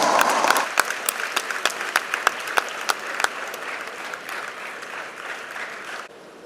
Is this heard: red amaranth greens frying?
no